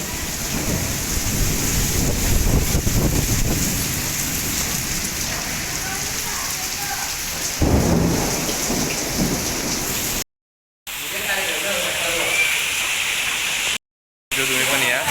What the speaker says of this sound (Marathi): एवढा मस्त पाऊस पडतोय ना, गडगडचं पण आहे